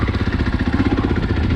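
2021 Husqvarna FE 450 motorcycle engine idling close by, a steady, loud chugging pulse with even rhythm and no voices.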